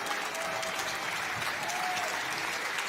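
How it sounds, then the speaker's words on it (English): An audience claps in steady, dense applause throughout at a live game showcase event for Operation Blood Orchid, with no pause in the clapping. "Give them a round of applause for showcasing the new content."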